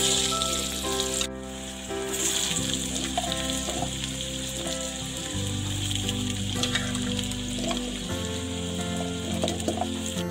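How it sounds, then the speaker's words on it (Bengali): Two medium potatoes, cut into cubes, fry in hot oil in a wok, with a steady, close sizzle that hisses on without pause while a low hum sits beneath it. "এবার আমি কড়াইয়ে গরম তেলে দিয়ে দিচ্ছি দুটি মাঝারি সাইজের আলু"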